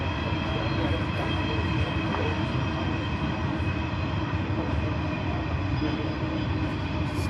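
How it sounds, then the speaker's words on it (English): A freight train rumbles steadily past a lawn bowls green, a loud continuous roar with a constant rattling drone and no gaps. "Got another freight train going through at the moment"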